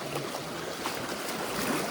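Steady, dense rushing of river water fills the whole stretch, close and loud with a constant wash and no talking.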